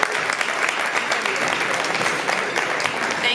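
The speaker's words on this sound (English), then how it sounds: "Let's give her a round of applause as she approaches the podium." Dense crowd applause at a leadership event as a woman walks to the podium, continuous and close with no pauses.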